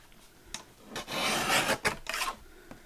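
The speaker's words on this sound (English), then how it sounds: "cut that across, make sure it's square in your trimmer" A paper trimmer slices across a sheet with a brief scraping slide, preceded and followed by a few light taps, close and fairly soft.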